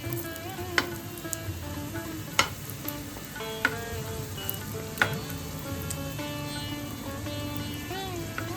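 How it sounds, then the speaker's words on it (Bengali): Egg patties fry in oil over medium heat, giving a steady crackling sizzle with scattered pops and a few sharper clicks of utensils, close and continuous with no talking. "মিডিয়াম হিটে আমরা এইগুলো ভাজবো"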